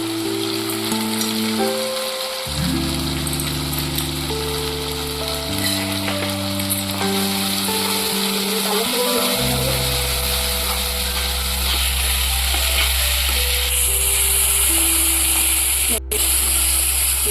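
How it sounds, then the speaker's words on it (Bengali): Onion paste frying in oil in a pan for a Bengali boal fish curry, a steady loud sizzle running throughout, with background music playing over it. "পেঁয়াজটা দেখে খুব সুন্দর লাল লাল হয়ে গেছে, ভাজা হয়ে গেছে"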